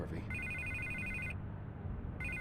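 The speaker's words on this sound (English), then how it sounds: "I can't get the phone to stop ringing." A telephone rings repeatedly in Batman: The Telltale Series, a steady electronic trill with a short gap, heard over a low background hum.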